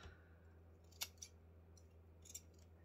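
Scissors snip weaving yarn a few times, quick faint cuts against a quiet hum with no talk.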